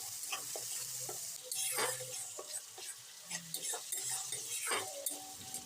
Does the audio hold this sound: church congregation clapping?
no